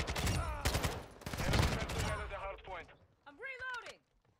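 Kastov 74U gunfire in Modern Warfare 2: rapid, dense bursts of automatic fire for about two seconds, then tapering off into a few fainter shots and a short tonal game effect.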